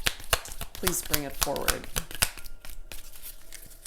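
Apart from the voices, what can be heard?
shuffling heart oracle cards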